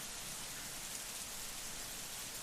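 Steady rain falls in a dense, even hiss, loud and continuous with no other sounds standing out.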